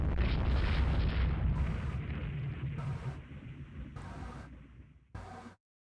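Naval gunfire and shell explosions in the Rule the Waves 2 warship battle roll out as a heavy, decaying rumble broken by repeated muffled booms, ending with one last sharp blast.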